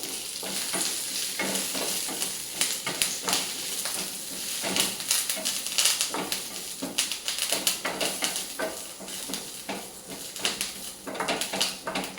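Garlic cloves sizzle and crackle steadily in a hot pan while making idli podi, a dense, close frying hiss with frequent small pops and occasional stirring scrapes, no voices.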